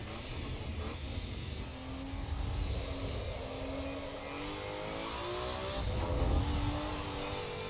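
Race car engine revving in Assetto Corsa EVO, a steady loud drone with rising and falling pitch as the car accelerates, fairly close and continuous with no talk.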